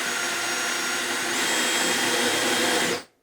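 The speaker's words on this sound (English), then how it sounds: "I also need to countersink these." A power drill countersinks screw holes in a retro 1990s GE Spacemaker kitchen radio cabinet, giving a loud, steady whir held for about three seconds before cutting off abruptly, with no talk.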